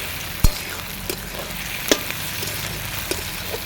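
Onions frying in melted chicken fat in a pan over a wood fire, a steady loud close sizzle with a few soft clinks and stirring knocks scattered through it.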